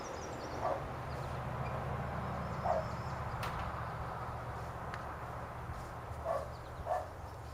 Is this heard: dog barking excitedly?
yes